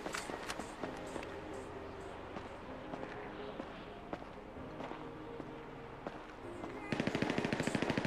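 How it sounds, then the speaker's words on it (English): Gunfire from a rooftop deathmatch in GTA 5, with a steady background of game action and scattered shots, then a loud dense burst of rapid automatic fire at the very end. "I heard the bullets coming as well there"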